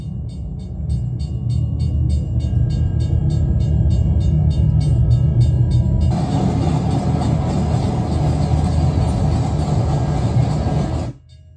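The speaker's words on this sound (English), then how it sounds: "That's when I hear the sound of a train honking from a distance." A train in an animated horror story rumbles heavily and steadily. Partway through, a broader, brighter roar joins as it draws closer, then everything cuts off abruptly at the end. No voices are heard.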